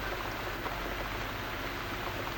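Rain falls steadily in The Cat Lady game, a dense, even hiss of drops that stays constant throughout without any talk.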